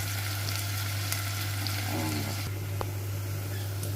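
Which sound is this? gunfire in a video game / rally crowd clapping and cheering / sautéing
sautéing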